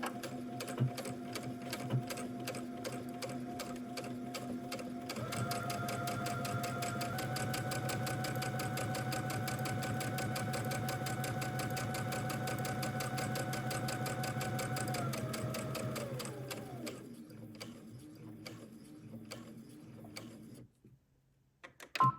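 A sewing machine runs steadily for about sixteen seconds, edge stitching the front band of a shirt dress, its motor hum rising in pitch partway through before slowing, winding down and falling quiet; no one speaks.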